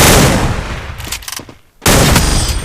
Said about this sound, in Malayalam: എന്നിട്ട് വെടി.